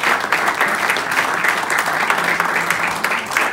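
An audience applauds at a community awards ceremony, a thick, sustained round of clapping from a roomful of people, near and loud, pulsing slightly but never stopping.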